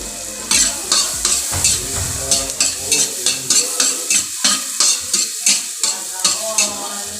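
Onion sizzles in a pan while being stir-fried for pancit bicol, a continuous frying hiss broken by a regular rhythm of utensil scrapes and stirring strokes, close and fairly loud.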